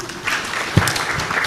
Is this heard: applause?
yes